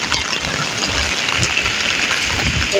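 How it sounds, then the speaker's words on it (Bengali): Rain falls steadily over a Bengal village, making a constant broadband hiss of drops on surfaces with a faint low rumble underneath and no talking. "চমৎকার বৃষ্টি হচ্ছে।"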